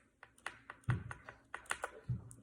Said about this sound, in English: The hysteresis part of this switch, which might cause some extra sound like this,